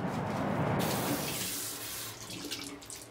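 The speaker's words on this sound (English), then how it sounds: "do my warm water and cold water rinse" A tap runs water into a sink for a warm and cold rinse, a fairly quiet steady splash that changes character partway through and then runs on more softly.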